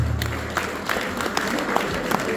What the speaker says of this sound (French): Applaudissez pour les putschistes.